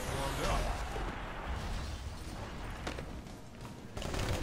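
Dense gunfire and blasts in Marvel Ultimate Alliance 2, a continuous rumbling barrage of explosive bursts with someone speaking over the battle noise.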